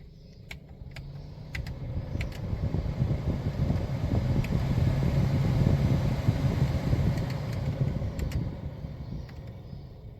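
A Hyundai Veloster's AC blower motor runs steadily with a broad whooshing rush that builds and holds, carrying faint rattling and ticking irregularities under the airflow; no one talks.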